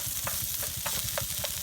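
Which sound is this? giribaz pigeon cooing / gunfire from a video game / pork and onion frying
pork and onion frying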